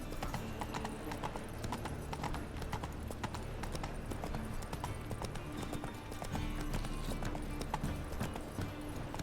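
Horse hooves clip-clopping steadily in The Witcher 3 video game, a continuous close rhythmic trot over a constant ambient background, with no talk.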